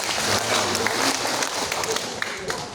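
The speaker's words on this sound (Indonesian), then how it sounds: "tepuk tangan untuk kita semua" A room of people at a Scout orientation clap together, a short burst of scattered applause that carries on across the clip.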